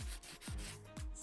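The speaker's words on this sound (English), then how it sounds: "it needs some sanding" Close, rhythmic back-and-forth strokes of sandpaper on an antique wooden chair, a few rasping passes with a dull thump as each stroke turns, loud and with no talking.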